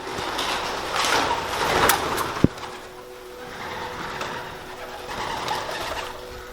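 Pigeons coo softly from inside an enclosed space in an abandoned mental hospital, a low steady murmur of several birds with a sharp knock partway through and faint background noise.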